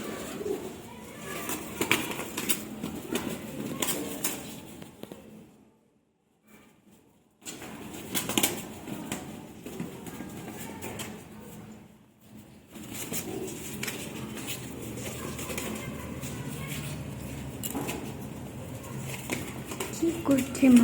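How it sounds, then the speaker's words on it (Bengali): Two pigeons cooing and fluttering close by in a home kitchen, with low murmuring calls off and on across the stretch, a brief quiet gap partway through, and someone talking over them. "পায়রা দুটো কেমন খেলা করছে দেখো।"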